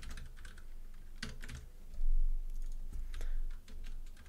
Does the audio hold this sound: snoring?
no